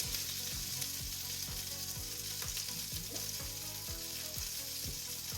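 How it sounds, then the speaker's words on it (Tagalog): Vegetables fry in butter in a pan with a steady, close sizzle that carries on without a break. "And then gumamit tayo ng ano naman dito, butter. We'll fry the vegetables."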